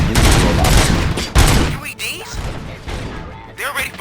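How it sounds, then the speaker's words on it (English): Gunfire crackles in the RoboCop: Rogue City video game, dense rapid shots and thuds blending into a loud continuous barrage that eases slightly, with a voice speaking over it. "Gunshots? What's going on?"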